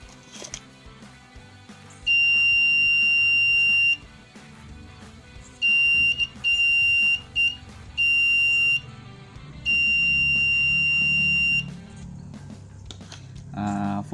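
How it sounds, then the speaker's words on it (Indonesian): Buzzer of a homemade laser motion-sensor circuit using an LDR and transistor, sounding a loud steady high-pitched tone in several bursts of varying length, some long and some short, with faint background noise between them. "Ketika cahaya dihalangi maka buzzer akan berbunyi"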